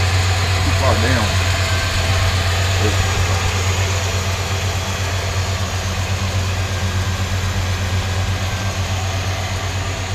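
Original 1970 Dodge 318 V8 in a Dodge Polara wagon idles with a steady, loud low rumble that holds even throughout, heard close up with a voice briefly audible over it early on.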